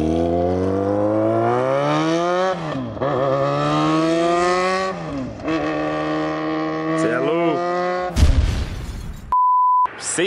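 A Jaguar XJ6 motorcycle engine revs hard and climbs in pitch through several shifts, loud and close, before a short electronic beep.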